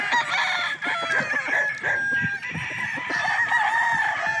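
A Boston Lemon early bird gamefowl rooster crows loudly and close, with overlapping crowing and clucking from other birds around it.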